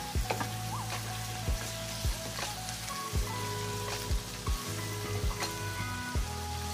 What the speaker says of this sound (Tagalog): Igisa lang talaga muna natin para matanggal yung lansa.